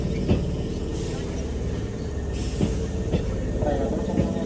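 A four-car commuter train pulls into Katsura station in Kyoto, its steady low rumble of wheels and motors filling the platform with a few sharp clacks and brake hisses on top.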